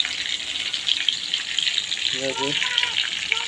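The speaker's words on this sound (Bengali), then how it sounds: "পমফ্রেট মাছ ভাজা হচ্ছে" Pomfret fish frying in a pan for an onion, ginger and garlic curry, a steady broadband sizzle running throughout, with a brief spoken phrase near the end.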